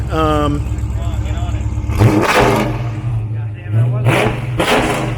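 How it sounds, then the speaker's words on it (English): A 2017 Dodge Charger Daytona fitted with new long tube headers revs in a few loud, deep bursts, the engine note rising and falling twice up close, with a brief harmonic whine at the start. "The car sounds amazing. It really just changed the whole note of the car."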